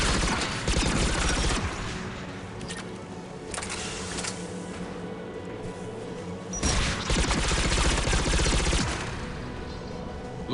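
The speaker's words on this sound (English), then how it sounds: "AA guns ahead of us." Anti-aircraft guns in the video game Mass Effect 3 fire in dense rattling bursts, loud and close, with rapid repeated reports swelling in several waves over mechanical game noise.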